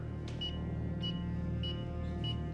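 Short electronic beeps repeat about every half second, quiet and high-pitched, over a low steady background hum.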